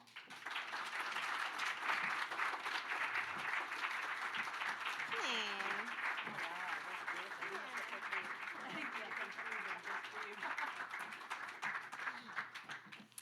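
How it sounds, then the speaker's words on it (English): A crowd applauds with dense, sustained clapping, while a voice speaks briefly underneath the applause. "So just a huge round of applause and a huge thank you."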